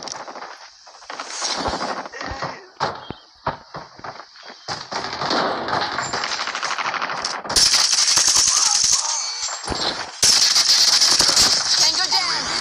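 Akimbo Dobvra pistols firing in COD Mobile: loud, rapid bursts of gunfire with short pauses between them, dense at close range and accompanied by game voice callouts.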